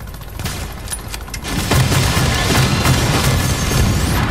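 Gunfire and heavy booms from The Division video game during a night assault on a gunship, a loud continuous barrage with dense overlapping shots that grows heavier partway through.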